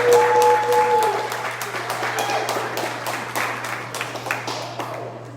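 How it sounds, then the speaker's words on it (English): Audience applause at a community discussion event, a crowd clapping steadily with dense, overlapping hand claps that gradually thin and fade over several seconds, with a steady low hum underneath. "So let's give her a round of applause."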